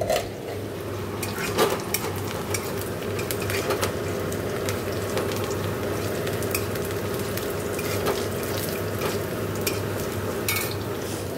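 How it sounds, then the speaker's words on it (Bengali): Sliced onions frying in oil in a home kitchen pan for dal tempering, giving a steady close sizzle with a low stove hum beneath and occasional soft scrapes of stirring, no voices. "এদিকে ডাল ফোড়ন দেবো বলে পেঁয়াজ ভাজছি"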